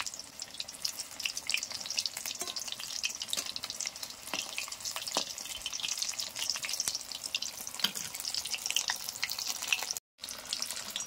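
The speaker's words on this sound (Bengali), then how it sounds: "তো এইভাবে উল্টিয়ে উল্টিয়ে ভেজে নিতে হবে।" Chicken pakoda sizzles and crackles steadily in hot oil as the pieces are turned, a dense, close, continuous frying hiss with no voices.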